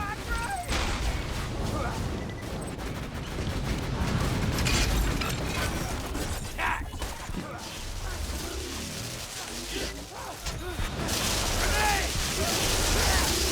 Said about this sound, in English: shooting the rockets a little bit high like that and stuff